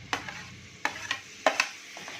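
Tomato goes into a hot spiced pan for sambar, crackling and sizzling as a spoon scrapes and stirs in several distinct strokes, close and fairly soft, with no voices.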